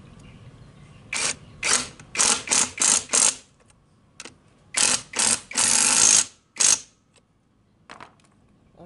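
A J.LD impact wrench fires in a series of short, sharp rattling bursts on wheel bolts, irregularly spaced with quiet gaps, one longer burst in the middle and faint taps near the end.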